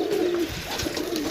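Pigeons coo close by in a pigeon loft, a low throaty warble rising and falling over about a second, with softer cooing layered behind it.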